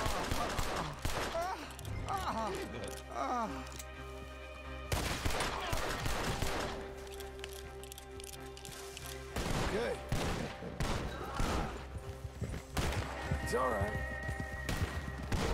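Bursts of gunfire, a horse's whinny and hoofbeats ring out during a Red Dead Redemption 2 gameplay session, sharp shots recurring in clusters amid frantic action while someone talks over the game.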